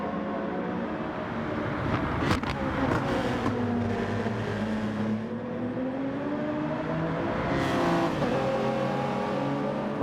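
Race car engines in a racing video game climb the mountain at Bathurst, one a Supra, with loud sustained engine tones that rise and fall in pitch through shifts over ten seconds, alone without talk.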